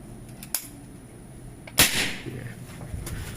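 A single sharp, loud pop from a PCP mini pistol airgun charged to 2500 psi, preceded by a faint click and trailing off in a brief whoosh.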